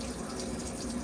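Hot water pours steadily from a tap in a 2025 Auto-Trail V-Line 540 motorhome, a continuous close hiss and splash with no pauses or voices.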